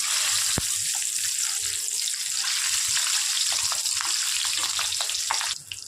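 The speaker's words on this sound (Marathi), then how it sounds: "आता आपण मिरच्या सुद्धा तळून घेऊया" Slit green chillies stuffed with salt frying in hot oil for batata vada, a continuous loud hiss and sizzle with faint scattered crackles throughout.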